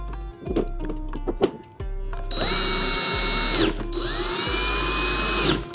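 A power drill drives screws into a TV wall mount, close and loud, with several whirring runs that spin up and stop in quick succession.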